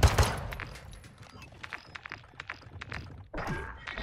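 Gunfire in an online shooter game: a burst of sharp shots at the start, a stretch of scattered fainter cracks and thuds, then another loud cluster near the end, with talk mixed in.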